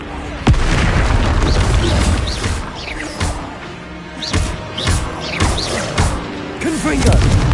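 Confringo fire spells burst during spell combat in Hogwarts Legacy, a string of loud, deep explosive booms, several close together with crashes and rumble between them.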